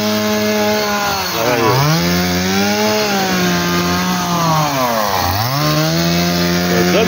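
A loud chainsaw engine runs continuously close by while cutting grass, its pitch dipping twice as it bogs down under load before revving back up.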